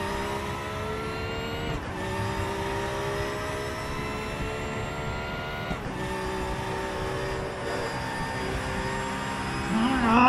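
A race car in a racing video game, its engine holding a steady harmonic whine at speed, with brief shift dips and rising toward the end as it accelerates.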